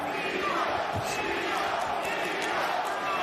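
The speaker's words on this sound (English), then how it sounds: "now you hear the chant from the New York crowd for the Brooklyn-born Teofimo Lopez" New York boxing crowd chanting for Brooklyn-born Teofimo Lopez, a dense roaring arena wash with rhythmic chant swells under a commentator's voice.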